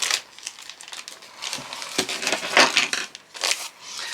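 Crinkly plastic rustling and crunching of a packaging bag for a diamond painting kit being cut open, irregular bursts up close with short pauses.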